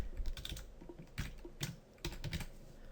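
Quick, uneven bursts of keystrokes on a computer keyboard, close and crisp, with short pauses between clusters of taps and no talking.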